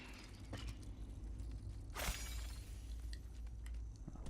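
Objects shatter in the video game Moss: a sharp crack with a bright burst of breaking debris stands out midway over a steady low game hum, with fainter clinks before and after.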